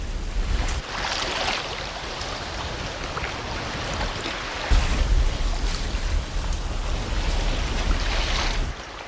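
A small motorless boat under a tablecloth sail glides quietly across a reef, heard as steady close wind rush and lapping water with no voices.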